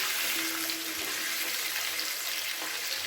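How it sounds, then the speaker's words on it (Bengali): Oil heating and frying in a pan, a dense continuous hiss and sizzle holding steady and fairly loud throughout, with no voices. "খুব ভালো করে তেলটাকে একটু ভেজে নিচ্ছি।"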